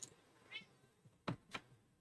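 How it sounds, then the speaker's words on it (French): An indoor cat meows faintly and briefly, then gives two short, louder calls close together, with no talk. "Miaou!"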